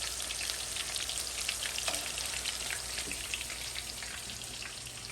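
Coconut shrimp fry in hot oil in a stainless steel pan, a dense, loud, crackling sizzle that keeps going steadily like rain on a surface, close up, with no voices.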